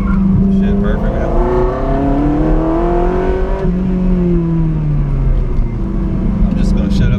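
A Ferrari 360 Modena is driven hard from inside the cabin, its engine note climbing through the revs, dropping on a shift, then pulling up again, loud and close throughout.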